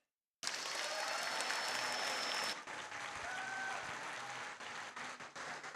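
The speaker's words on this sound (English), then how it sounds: "A round of applause for Team 9430." An audience at a robotics competition breaks into sudden applause for a team, a dense wash of clapping that starts abruptly, swells briefly, then settles into steady sustained applause with faint whistles.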